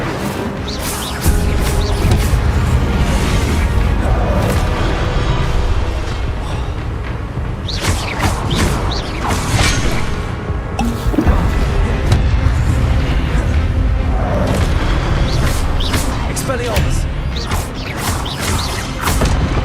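Incendio fire spell in Hogwarts Legacy combat, a continuous roar of booming blasts and crackling impacts layered over dense battle noise, with repeated louder bursts throughout.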